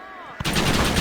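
Rapid gunfire erupts in the Xbox 360 video game Red Dead Redemption, a sudden loud burst of continuous shots cutting in after a brief quieter moment, close and dense.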